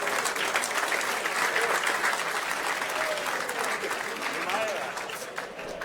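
A large audience applauds an award winner at a sports and business awards evening, a continuous, dense wash of clapping from the hall, holding steady before tapering slightly, with a voice speaking over it.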